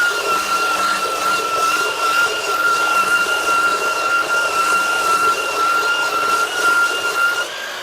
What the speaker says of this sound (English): We really had the perfect opportunity to review this Kobalt 24V Brushless belt sander with these small cutting boards